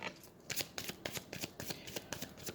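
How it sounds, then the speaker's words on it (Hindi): Tarot cards being shuffled and drawn by hand, a quiet close run of quick riffling flicks and soft card slaps in an irregular rhythm, with no talking. "और भी कार्ड्स मैं निकालना चाहूँगी"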